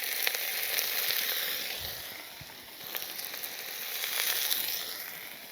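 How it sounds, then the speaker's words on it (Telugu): Boiled cauliflower pieces sizzling in hot oil with ginger for a gunth gobi curry: a steady, close frying hiss with soft crackles and occasional faint stirring scrapes, no voices. "ముక్కలు కూడా బాగా మగ్గనిద్దామండి నూనెలో."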